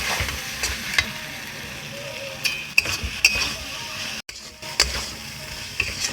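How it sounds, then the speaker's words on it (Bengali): A soybean cutlet mixture with tomato sauce and chopped coriander sizzles in a pan as it is stirred and sautéed, steady frying hiss broken by sharp spatula clinks against the pan. "এবার ভালো করে আমি কষিয়ে নেব"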